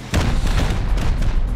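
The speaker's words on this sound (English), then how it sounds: "It's going to do a rocket run now." Rocket strike in the survival game Rust: a rapid string of loud, close booming explosions hitting one after another in a heavy barrage, with no speech.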